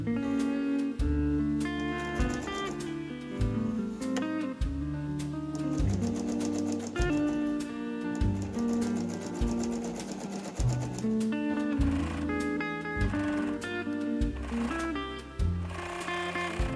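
A home sewing machine stitches a thrifted dress under alteration, its motor whirring in steady bursts that shift in pitch and speed, with brief pauses between seams and no talking.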